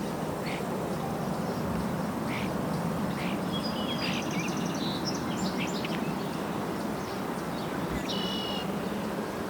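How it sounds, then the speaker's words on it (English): Starlings and sparrows sing outdoors in a Montreal setting, a scatter of short chirps and brief trilled phrases rising over a constant dense roar of background noise, fairly faint and intermittent throughout. "I can hear starlings"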